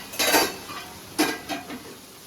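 A spatula scrapes and clinks against a non-stick kadai while masala is roasted and stirred, giving a few sharp metallic knocks and scrapes with short pauses between strokes.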